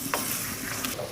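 Steady bubbling and sizzling of thick chicken masala boiling in a pot for mandi, a continuous close-up hiss with small irregular pops.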